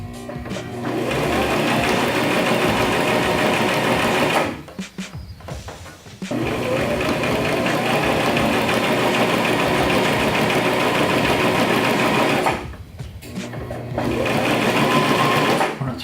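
A sewing machine runs close and loud while stitching a hem on torn trousers during a repair, whirring steadily in long runs broken by two brief pauses as it switches between back and forward stitching.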